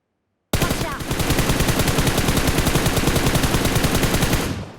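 Sustained automatic rifle spray in the mobile battle royale game PUBG Mobile, a rapid, even stream of loud shots starting abruptly after a brief silence and running for about four seconds before cutting off.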